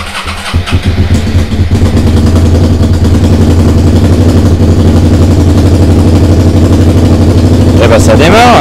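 Restored Suzuki SV motorcycle engine cranking a moment, then catching and settling into a loud, steady close-up idle with a throbbing beat that holds to the end; a voice speaks briefly over it.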